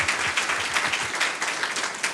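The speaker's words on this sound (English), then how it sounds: "So a round of applause for Ms. Shaw." Applause rises from attendees at a school district board meeting honoring a campus teacher, a dense burst of many hands clapping at mid distance that stays steady for about two seconds without talk.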